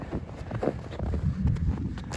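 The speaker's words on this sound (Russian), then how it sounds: "Порывы ветра лютейшие просто." Strong gusts of wind buffet the microphone on a frozen lake during a winter blizzard, a continuous rough roar that surges and swells without any voices.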